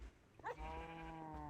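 A single short bleat from a sheep in modded Minecraft, heard once and quietly over a steady low hum.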